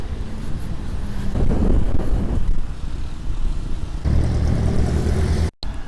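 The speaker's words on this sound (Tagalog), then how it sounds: "Lakas ng hangin pa rin talaga." Steady, loud wind rushing across the microphone, broad and roaring throughout, with a brief dropout near the end, on the road in Cavite, Philippines.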